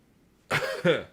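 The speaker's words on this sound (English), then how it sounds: "Cough." Two quick coughs from a character in the video game Genshin Impact, close and clear against near silence.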